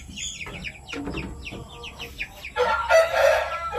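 A young gold-colored gamefowl rooster (stag) clucks in short, close bursts, then lets out a loud, rough crow at the end.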